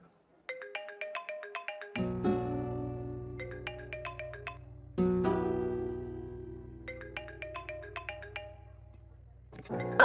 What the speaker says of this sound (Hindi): तुम जब से आई हो तब से ही साला फोन बजे ही जा रहा है